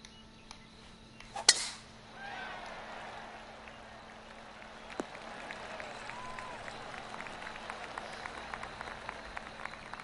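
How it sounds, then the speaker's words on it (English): Polite golf-crowd applause in the PGA Tour 2K23 video game, a light smattering of claps building after a sharp tap and holding at a moderate, steady level throughout. "Oh, golf clap. That's a beauty."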